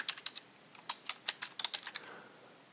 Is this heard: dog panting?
no